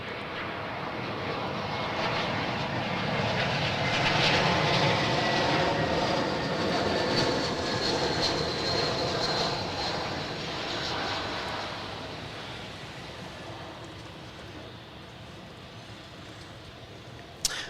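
A Jetstar jet airliner passes overhead near Adelaide Airport, and its engines make a broad, steady roar that swells to a peak, then slowly fades as it moves away. A faint thump comes at the very end.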